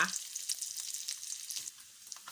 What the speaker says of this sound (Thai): เราก็จะเจียวนะคะ เจียวจนกว่า มันของหมูสามชั้นจะแตกออกมาก็เป็นน้ำมันนะคะ